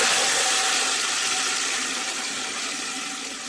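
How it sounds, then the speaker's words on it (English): Water pumps and motors at summer storage tanks for drinking water run as a continuous broadband mechanical hum with a faint steady tone, loud and unbroken, easing slightly toward the end. "The pumps and motors are on."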